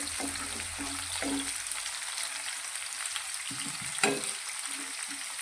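Chopped medium onion pieces fry and sizzle in hot oil in a pan for an okra curry, a steady crackling hiss with occasional stirring clatter, close and alone without talk.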